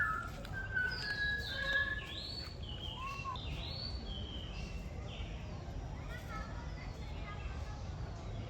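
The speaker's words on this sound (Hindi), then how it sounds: "देखो पेरियार में कोयल भी है।" At Periyar Tiger Reserve in Kerala, a koel and other birds give repeated whistled, swooping calls at moderate distance over a steady hiss of outdoor ambience, without talk.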